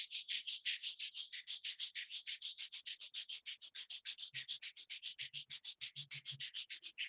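Palms rubbed briskly together during a yoga class, a steady rapid swishing friction repeated dozens of times in an even rhythm, close and clear with no talk.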